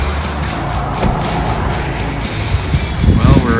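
A car drives along a road toward Medart, Florida, a steady broadband rumble of engine and tire noise with some wind buffeting, fairly close and continuous throughout.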